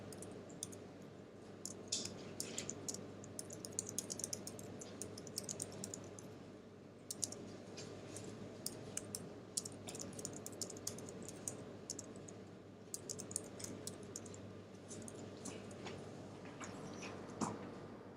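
Keystrokes on a computer keyboard click steadily across the whole stretch in short irregular bursts, close and fairly quiet, with no one talking.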